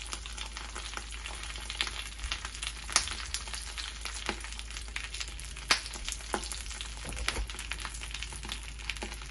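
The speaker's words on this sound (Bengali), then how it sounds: "এইভাবে আমি সবগুলো ভাজবো" Ruti flatbread frying in a pan, a soft continuous sizzle with scattered light crackles and occasional utensil taps, faint and close, with no talking.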